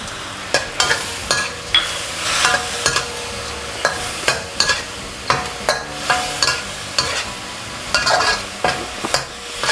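Pork and fried garlic stir-fry in a pan: a steady loud sizzle with rhythmic scraping stirs from a spatula, repeating every second or so, close up and with no voices.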